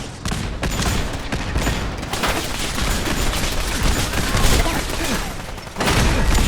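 Automatic turret gunfire in Fallout 4, a dense, continuous volley of rapid shots close by, with a brief dip near the end before the firing resumes at full loudness; a voice may be faintly present underneath.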